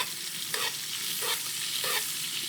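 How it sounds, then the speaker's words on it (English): Butter foaming and spitting around a steak in a hot pan while it is basted, a dense continuous sizzle with rhythmic swells from the spooning, close and steady. "add the butter and baste that beautiful steak"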